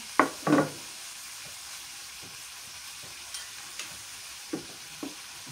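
Garlic paste frying in a pan, with two quick scraping stirs at the start and then a steady low sizzle broken by a few faint taps of the spoon.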